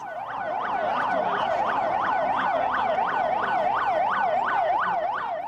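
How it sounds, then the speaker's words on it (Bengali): An ambulance siren wails in a rapid, evenly repeating yelp as the vehicle leaves a prison at night under police escort, loud and steady throughout with no voices. "নিজামীর মৃতদেহ নিয়ে কারাগার থেকে বের হয়ে এলো অ্যাম্বুলেন্স"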